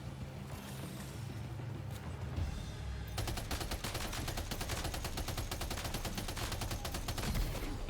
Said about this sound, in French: Ah, la mitrailleuse, c'est puissant, par contre, le recul...